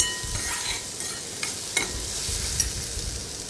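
Kashmiri chilli powder and ghati masala sauté in hot oil for a spicy Maharashtrian brinjal curry, with a steady sizzle under a few sharp scrapes of a spoon stirring the pan.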